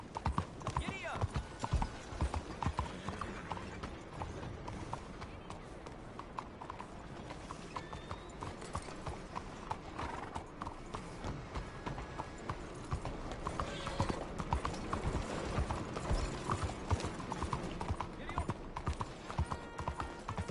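A horse gallops in Red Dead Redemption with a steady, fast clip-clop of hooves, close and continuous throughout, and a voice is heard over the hoofbeats.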